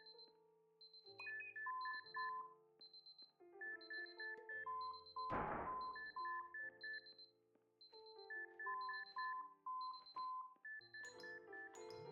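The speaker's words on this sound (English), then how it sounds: "the beeping is so annoying." Repeating electronic beeps in Superliminal, short tonal pips in rhythmic patterned bursts over about twelve seconds, interrupted midway by a sharp noisy crash, fairly faint and without talk.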